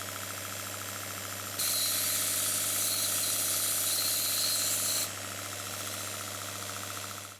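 A Stuart model steam engine runs with a steady mechanical chug. With its exhaust pipe disconnected, a loud, bright hissing rush joins in for about three seconds as the engine speeds up, then settles back to the steady running.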